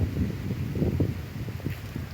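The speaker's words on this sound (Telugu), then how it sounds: "చల్ల గాలి చూసారా?" Cool wind gusting through a sapota orchard as a storm builds, a low steady rushing and buffeting close to the microphone with faint leaf rustle.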